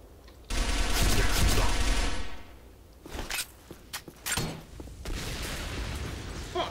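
Automatic gunfire in the online shooter Arctic Combat: a long, loud burst for about a second and a half, followed by scattered shorter bursts and thuds.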